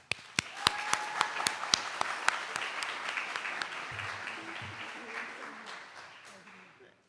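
Audience applause at a youth law program graduation ceremony, steady clapping from a crowd with a few sharp nearby claps standing out, gradually fading over several seconds.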